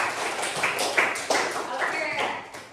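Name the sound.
classroom applause for student groups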